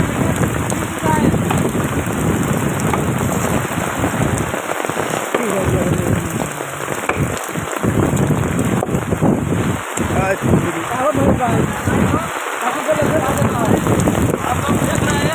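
Heavy rain pours during a storm in Rampur, a dense steady wash close to the microphone with wind buffeting throughout and a voice talking over it.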